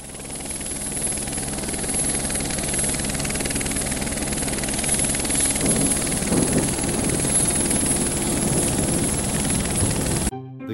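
An airplane sound effect plays: a steady, loud aircraft engine drone with a thin high whine on top. It holds for about ten seconds and then cuts off abruptly.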